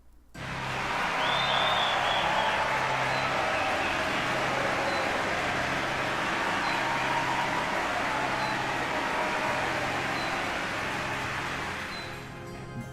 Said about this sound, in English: Let's see how loud the clapping is now.